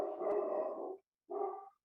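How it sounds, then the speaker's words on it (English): Dog heard from a distance during a county fiscal court meeting, giving two drawn-out howling barks separated by a short pause, with no talk over them. "Somebody's dog."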